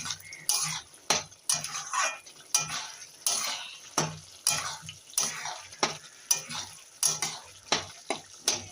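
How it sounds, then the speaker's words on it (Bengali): A spoon scrapes and clinks rhythmically against a pan while spices, including Kashmiri red chilli powder, are stirred into mutton fat for a cabbage dish, repeated strokes close up with a light fry beneath and no speech. "আবারও আমি নেড়ে দেবো।"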